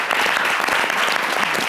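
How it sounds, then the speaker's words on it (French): Loud, dense applause from a television studio audience cheering a contestant, a continuous close wash of many clapping hands throughout. "C'est donc Antoinette Conan qu'on applaudit bien fort."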